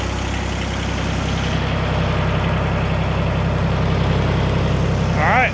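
A small engine idles steadily right after a cold start with the throttle left down, a close, even low chugging that stays constant throughout.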